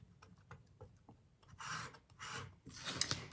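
A palette knife sweeps through oil paint on a palette in a few soft rasping scrapes, quiet at first and growing louder and broader toward the end, close by with no talk.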